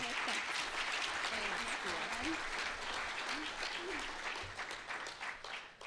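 Audience applause welcoming a speaker onto a stage at a morning talk session, a steady dense clapping that holds at full strength for several seconds before tapering slightly, with faint voices mixed in.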